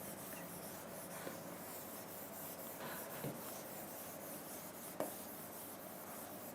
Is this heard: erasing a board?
yes